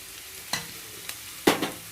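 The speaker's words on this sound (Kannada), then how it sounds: "ಈರುಳ್ಳಿ ಸ್ವಲ್ಪ ಚೆನ್ನಾಗಿ ಬೇಯಬೇಕು" Onions fry in a pan with a soft, steady sizzle, broken by a couple of sharp scraping strokes as they are stirred.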